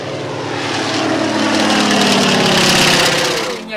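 A 1954 Antonov An-2 biplane taking off for a parachute drop, its radial engine and propeller producing a loud, steady roar that swells and then eases slightly as it passes close by.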